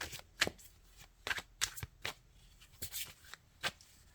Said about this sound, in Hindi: मैं 2 कार्ड और निकालूंगी लास्ट।